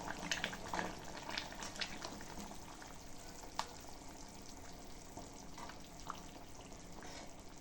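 Village fish curry boiling in a pot, giving a steady bubbling, sizzling simmer with occasional faint clinks, no talking.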